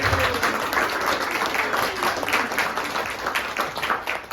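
Dense, steady applause from an audience at a 75th anniversary celebration of Subbuteo, many hands clapping together at an even, loud level from start to finish.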